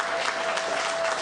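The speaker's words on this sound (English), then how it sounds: "I think they need a big round of applause too" Brief, steady applause from an outdoor crowd at the GeoWoodstock geocaching event, a short dense burst of many hands clapping at even volume.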